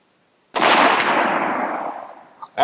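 A single loud rifle shot from a .375 H&H at an outdoor range cracks sharply and then rolls away in a long fading echo, followed by a faint short sound at the end.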